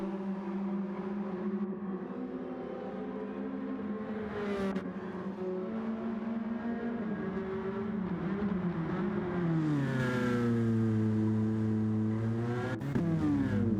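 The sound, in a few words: race car coming into the pits in a racing video game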